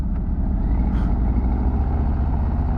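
A 2024 Harley-Davidson Road Glide motorcycle engine pulling steadily in fourth gear, a continuous loud low rumble with wind, with no talking over it.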